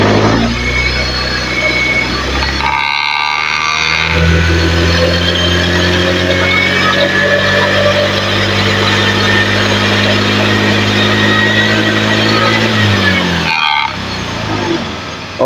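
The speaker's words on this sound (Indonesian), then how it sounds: "Sekarang coba saya gas ya." A motorcycle engine is revved with the throttle during a charging-current check, giving a steady loud run with a sustained droning tone and a brief dip partway through.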